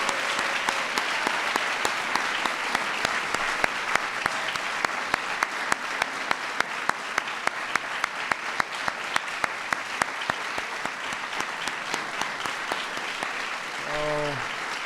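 Sustained audience applause at a National Medals of the Arts ceremony, dense clapping with sharp individual claps standing out in a steady rhythm, a voice calling out briefly near the end.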